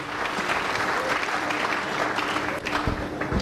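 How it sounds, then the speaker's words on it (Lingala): Sustained applause from a large church congregation, steady and dense throughout with no voices rising above it. "Est-ce que nous pouvons acclamer très fort?"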